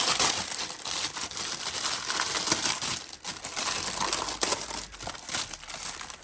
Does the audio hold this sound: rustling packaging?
yes